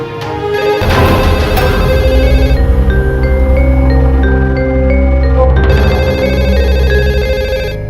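A telephone rings loudly and steadily in repeated electronic bursts, close by, with no voices over it.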